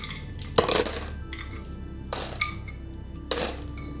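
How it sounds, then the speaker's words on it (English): Ice cubes dropped into a glass while making a mango smoothie, three separate bursts of bright clinking and rattling, each a quick cluster of hard knocks settling into quiet between them, close and clear. "Now put some ice cube in a glass and pour smoothie on it."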